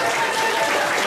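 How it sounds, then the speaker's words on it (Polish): A stand-up comedy audience bursts into steady, loud applause, a dense wash of clapping hands that fills the room with no break. "Dajcie mu brawo."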